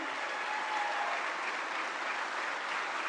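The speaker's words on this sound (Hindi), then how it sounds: "आइए जोरदार तालियों के साथ अपना आभार व्यक्त करें" Large crowd at a Prime Minister's incentive distribution ceremony applauding continuously, a dense, even wash of clapping with no breaks.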